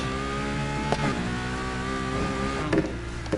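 Steady engine hum of a car idling and revving at the start of an off-road race in Need for Speed Heat, with layered harmonic drone and a couple of brief mechanical clunks, loud and continuous with no talking.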